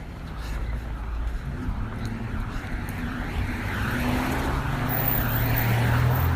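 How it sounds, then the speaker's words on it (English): Road traffic along Broad Street, a steady roar of passing cars that swells gradually louder toward the end as vehicles approach. "Alright, coming up here to traffic noise again."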